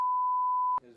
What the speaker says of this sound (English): Every single time he calls on camera, we have to beep something out.